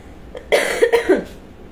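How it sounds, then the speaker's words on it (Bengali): A person coughs in a short burst of three or four rough, close coughs, with quiet room tone before and after. "কাশি হচ্ছে"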